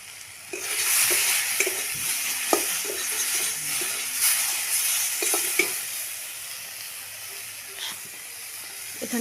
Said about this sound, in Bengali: কাঁচা লঙ্কা দিয়ে দিলাম। কষিয়ে নিব অল্প।